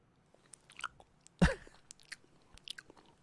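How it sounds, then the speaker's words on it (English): Wet, open-mouthed chewing of runny mashed potatoes as a sound effect: sparse smacking clicks with one loud, squelchy bite in the middle, close and isolated, with no talking. "open mouth chewing sound runny mashed potatoes"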